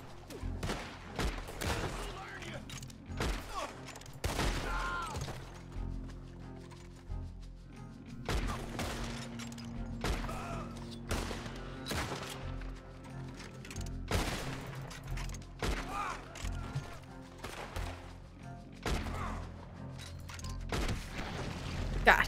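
Gunfire in Red Dead Redemption 2 comes as repeated loud shots, some single and some in quick clusters, spaced irregularly across a long stretch over low background rumble, with a voice talking between them.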